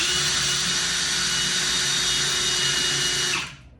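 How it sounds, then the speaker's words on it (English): A handheld power drill boring a hole: a loud, steady, close motor whine held for about three seconds, then spinning down and stopping. "See how we drilled a hole in that?"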